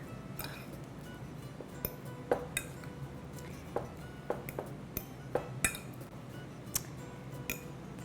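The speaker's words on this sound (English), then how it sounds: "So now we're going to mash the cheese into the cream cheese and get it all combined." A utensil mashes cheese into cream cheese in a mixing bowl for keto jalapeño poppers, giving scattered light clinks and taps against the bowl over a low, steady background, with no talk.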